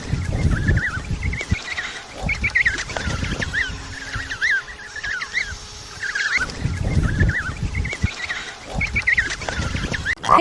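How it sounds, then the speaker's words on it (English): Penguin colony calls: a dense, noisy chorus of many birds braying and squawking at once, with overlapping harsh cries near and far and no break throughout. "Penguin."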